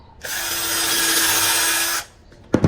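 A power drill bores into a wooden bookshelf with a loud, steady high whine for nearly two seconds, then cuts off, followed by brief quiet and a couple of sharp handling knocks.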